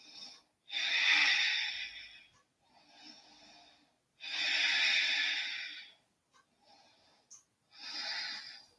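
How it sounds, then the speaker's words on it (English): Slow, deep breaths held through a yoga pose, three long loud airy inhales or exhales with shorter softer ones between, close and alone with no talking. "Take a couple of breaths here."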